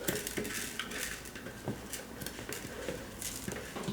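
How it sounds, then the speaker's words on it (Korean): Dry washed rice rattles and patters into a blender jar, with scattered clinks and taps over a few seconds, close and moderately quiet. "믹서기에다가 일단은 쌀을 먼저 넣어줄 거예요."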